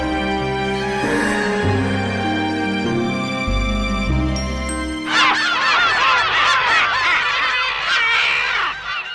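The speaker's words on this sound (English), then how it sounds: "The only thing that's still the same are those noisy birds." Honking birds in an animated series erupt in a noisy chorus midway, overlapping cackling calls rising over an earlier sustained tonal music passage, close and loud.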